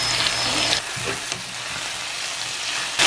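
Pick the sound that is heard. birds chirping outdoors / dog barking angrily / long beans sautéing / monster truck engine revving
long beans sautéing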